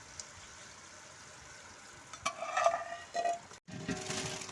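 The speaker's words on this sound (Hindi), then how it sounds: "ये अब हम चावलों में अपनी इलायचियों और घी में चाशनी डाल रहे हैं।" Sugar syrup hits hot ghee with cardamom pods in a pan of rice for zarda, breaking into a sudden sizzle and bubbling after a quiet stretch, with soft clinks of utensils.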